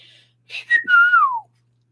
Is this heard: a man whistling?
yes